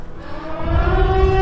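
A Siren Head horror siren sound effect rises out of low rumble into a loud, sustained wailing tone with stacked harmonics that swells and holds steady to the end, with no talk.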